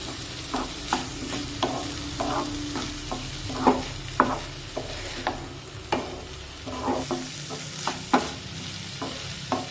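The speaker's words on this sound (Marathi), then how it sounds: "डाळ फोडणीमध्ये व्यवस्थित मिक्स करून झाल्यानंतर" Soaked moong dal is stirred in a hot spiced tempering in a pan, a spoon scraping in uneven strokes over a steady sizzle.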